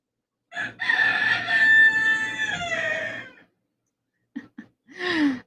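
Roosters crow loudly and close by, one long drawn-out cock-a-doodle-doo followed after a short silence by a couple of clipped calls and another crow starting, with no talk.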